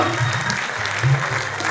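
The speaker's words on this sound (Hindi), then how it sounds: "तालियां बजाइए।" Steady audience applause fills the short stretch, a dense wash of many hands clapping at once with a low murmur of voices beneath.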